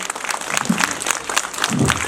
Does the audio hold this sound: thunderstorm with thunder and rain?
no